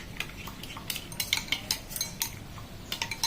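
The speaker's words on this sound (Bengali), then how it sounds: "আমি আরও অল্প পরিমাণ মিঠাই মিটের মধ্যে দিয়ে দিচ্ছি, ভালো করে মিক্স করে নেবো।" A spoon clinks and scrapes against a bowl in quick, irregular strokes while mixing a thick mango ice cream base, the close metallic taps repeating steadily throughout.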